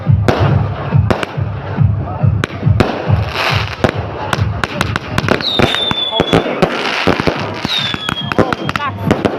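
Fireworks bang and crackle in rapid, irregular bursts with occasional whistling rockets at a town fiesta, while a crowd cheers and talks throughout.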